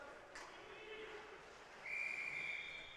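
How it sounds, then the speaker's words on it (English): A referee's whistle sounds at a junior varsity high school hockey game, heard as one sharp, shrill blast in the middle distance over faint rink ambience and crowd noise. "We have a whistle coming."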